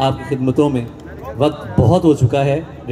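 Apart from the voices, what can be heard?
No everyday noises stand out.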